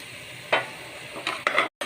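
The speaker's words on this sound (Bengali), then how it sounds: "চিকেন মশলা সহ ভালোভাবে কষিয়ে" Chicken pieces fried with spices in hot oil, giving soft sizzling with a few stirring scrapes over a short span, close by, ending in a sudden cutoff.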